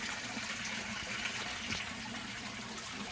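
Bio-enriched water flows steadily into beds of moist red lava rock in a bioponic growing setup, a constant gushing trickle without a break, moderately close and unaccompanied by talk.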